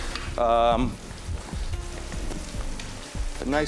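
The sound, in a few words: Swiss chard sizzling in pan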